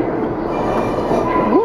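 A New York subway train running steadily with a continuous rumble and a rising metallic squeal near the end, heard from on board.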